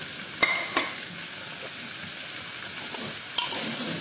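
Carrots and other vegetables fry together in a pan with a steady low sizzle, broken by a few sharp scrapes and knocks of a stirring spoon against the metal.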